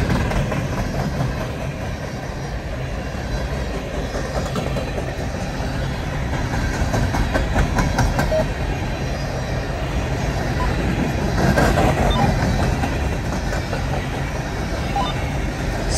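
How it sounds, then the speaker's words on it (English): A BNSF empty coal train led by locomotive 5785 with three distributed power units rolls by in falling snow, a continuous loud rumble with wheel clatter building toward the end. "Sticker train's coming down, guys."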